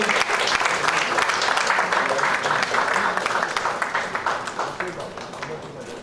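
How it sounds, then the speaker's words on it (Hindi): Loud, dense applause from a large audience at a book launch, with steady overlapping clapping that thins a little toward the end. "हाँ, अंकित तिवारी जी, जोरदार तालियां होनी चाहिए"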